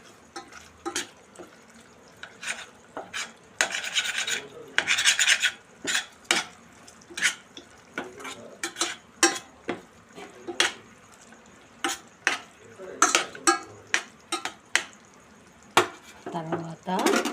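A spoon slowly stirs egg rice in a pot, making repeated metallic scrapes and clinks at an uneven, unhurried rhythm, close and fairly clear, with no talking.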